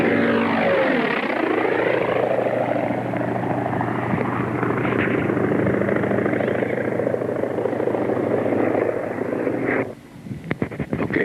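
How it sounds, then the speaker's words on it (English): An F-4F fighter flies past at an air show, a loud sustained propeller-engine roar that sweeps through with a shifting pitch before dropping off sharply near the end. "Then right behind him, here comes an F-4F fighter."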